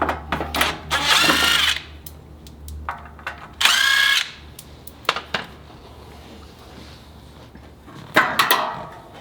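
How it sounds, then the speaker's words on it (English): Two loud bursts of a power drill biting into the steel part of a Toyota 4Runner fender, each lasting about a second, separated by clinks and handling noises, with another short burst near the end. "I gotta drill the steel part"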